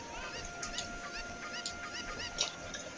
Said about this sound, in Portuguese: Tá, tem uma galinha aqui.